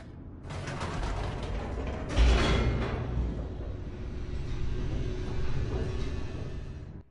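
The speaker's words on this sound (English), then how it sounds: "The elevator raced downward, plummeting towards an unknown fate." An elevator descends in The Stanley Parable Ultra Deluxe with a steady mechanical rumble, creaking and ratcheting gears, and a heavy clunk early on, then a continuous grinding drone.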